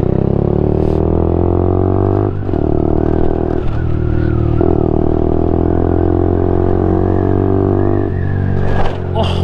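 A Lexmoto LXR motorcycle being ridden, its engine droning steadily and loud throughout with brief dips and surges as the rider shifts or changes throttle, and no talk over it.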